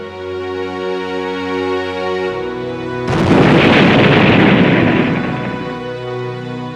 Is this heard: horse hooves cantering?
no